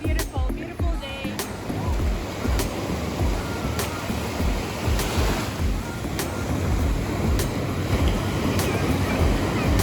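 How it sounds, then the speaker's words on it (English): Ocean surf rolls and breaks along a Rio de Janeiro beach, a continuous wash of waves with gusts of wind buffeting the microphone and faint voices mixed into the roar. "look at the size of the wave"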